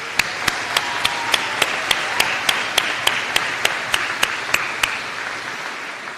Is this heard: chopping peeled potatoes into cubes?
no